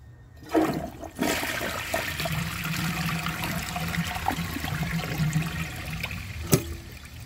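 A Vortens Murano toilet flushes after a sharp handle click, giving a sustained rushing gush of water that trails off into trickling, with a second clunk near the end.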